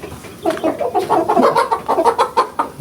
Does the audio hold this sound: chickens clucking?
yes